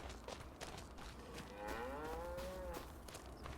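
Cows mooing in the farming video game Farming Simulator 25: one drawn-out, clear moo rises over a low background of game ambience, with no talking.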